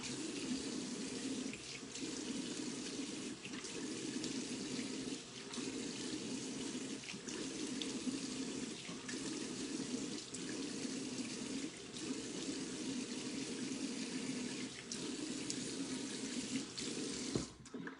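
Tap water runs steadily into a bathroom sink while someone rinses their face, a continuous close splashing stream lasting throughout with small dips as hands move through the flow.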